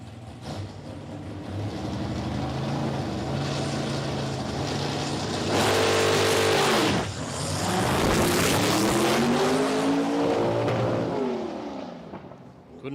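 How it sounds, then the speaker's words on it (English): A nitro funny car at a drag strip revs up hard, then launches as the clutch bites, the loud engine roar swelling, briefly dropping, and climbing again as it pulls away. "listen to him bring the revs up on this thing and throw the clutch"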